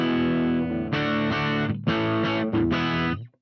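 A distorted electric guitar plays through a Headrush MX5 cabinet impulse response: a sustained chord, then several short strummed bursts with brief gaps, ending in a quick fade.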